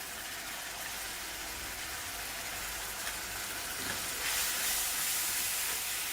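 Tomato puree and spices sautéing in a pan give a continuous crackling sizzle that swells louder toward the end, with faint stirring and no talk.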